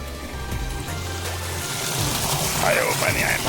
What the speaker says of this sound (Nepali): आयो पानी, आयो पानी, आयो।